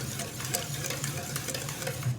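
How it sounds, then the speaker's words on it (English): Whisking a gluten-free cake batter of maple syrup, almond meal and coconut oil in a bowl, a continuous rapid scraping and tapping of the whisk at close range. "So we're whisking that together really well"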